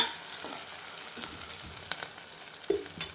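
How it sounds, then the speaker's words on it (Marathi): Chopped onion sizzles in a pan for a village-style Marathi festive meal, a soft continuous fry with occasional light clicks, near and fairly quiet, with no talking. "कांदा छान परतून घ्यायचा"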